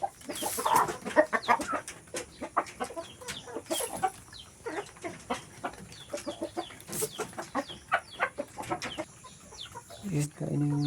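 Hungry farm chickens cluck and peck nearby while feeding, with a busy stream of short clucks and pecking taps, and a person speaks briefly over them.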